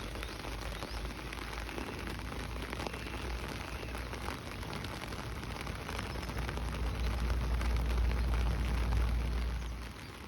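Steady rain falls and patters outdoors at a fishing spot, a dense, even hiss that holds throughout with a low rumble swelling toward the end.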